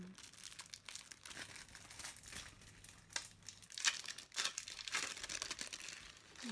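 Small sheets of AliExpress stickers crinkle and rustle as they are handled close up, with irregular papery crackles and a few louder crunches, while a person talks quietly over them.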